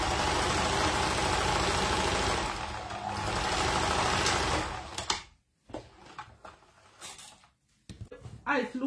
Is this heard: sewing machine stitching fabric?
yes